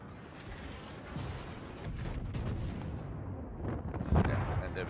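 Warship guns fire armour-piercing shells in World of Warships, with deep, rumbling booms and a mechanical clatter rolling under a steady background. A heavier blast lands near the end.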